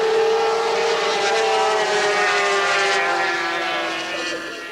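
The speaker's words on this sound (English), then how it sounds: "over the noise of the engines, you can hear the cheer of the crowd" 500cc Grand Prix racing motorcycles roar at Silverstone in 1979, a loud, sustained engine drone with a steady rising-and-falling pitch that tapers slightly toward the end as the bikes pass.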